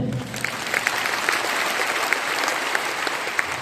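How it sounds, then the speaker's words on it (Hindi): An audience at a motivational business training session in Patna breaks into sustained applause, a loud, even wash of many hands clapping together with a few sharper claps standing out. "एक ताली होनी चाहिए।"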